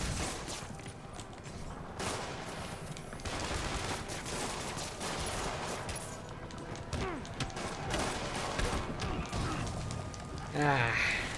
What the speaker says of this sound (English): you need to stop shooting me with rockets